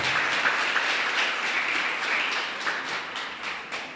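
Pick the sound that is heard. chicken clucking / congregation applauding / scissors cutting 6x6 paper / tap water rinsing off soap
congregation applauding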